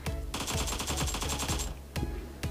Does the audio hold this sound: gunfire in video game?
yes